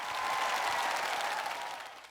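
A studio audience at the Korean TV singing contest National Singing Contest claps and cheers to welcome the first contestant, a dense, loud burst lasting about two seconds and fading at the end.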